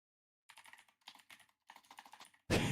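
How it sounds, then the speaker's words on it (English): Close keyboard typing in three quick bursts of clicking keys separated by short pauses, ending in a sudden loud burst of broadband noise. "He's typing."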